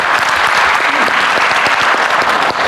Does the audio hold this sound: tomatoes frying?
no